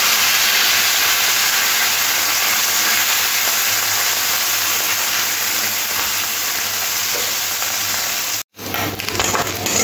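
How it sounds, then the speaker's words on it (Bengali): Small mourala fish, rubbed with salt and turmeric, fry in hot oil in a wok over a low gas flame, making a loud, dense, continuous sizzling hiss that cuts out briefly near the end and then resumes. "এই তেলের মধ্যে দিয়ে লাল লাল করে ভেজে নেব, আর গ্যাসটা কম আঁচেই ভাজতে হবে।"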